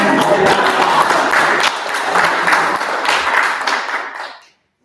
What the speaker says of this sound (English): Can we give those track kids a round of applause for breaking the record?